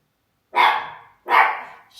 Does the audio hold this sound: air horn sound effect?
no